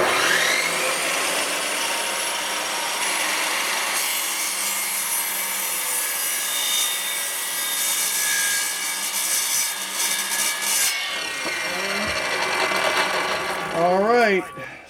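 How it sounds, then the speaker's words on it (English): Saw cutting through plywood during a travel trailer storage build, a loud continuous rasping drone lasting several seconds, ending with the tool winding down. "I'm going to saw right now."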